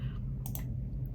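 Typewriter-style gaming keyboard with old-school round keys, a short cluster of two or three crisp clicks midway through, fairly close, over a steady low hum.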